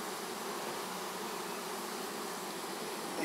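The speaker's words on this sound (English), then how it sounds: "These are Italian bees. They're very calm and docile." Docile Italian honey bees swarm around an opened hive during honey robbing, a dense, continuous buzzing drone heard up close at steady loudness, with no voices.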